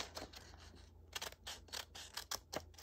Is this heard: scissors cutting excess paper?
yes